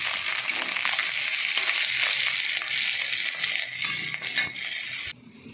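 Tangra fish sizzling and crackling in hot oil, a loud continuous fry with light stirring clatter, cutting off abruptly near the end.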